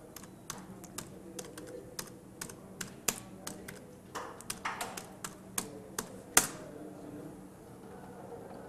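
Rapid keystrokes on a computer keyboard while entering a Google search, an irregular run of sharp clicks with one louder tap near the end, heard close against a quiet background.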